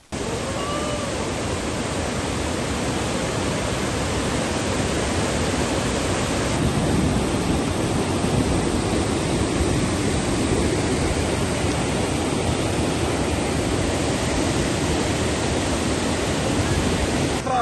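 Brahmeswara waterfall in spate after two days of heavy rain roars as a loud, dense and unbroken rush of falling water, steady from start to finish.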